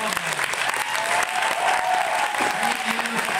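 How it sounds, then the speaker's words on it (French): An audience at a Beacon Hills Forever fan convention in Paris applauds Tyler Posey, a steady, dense clapping that fills the whole stretch at an even level, with faint voices and cheers mixed in. "On les applaudit bien fort."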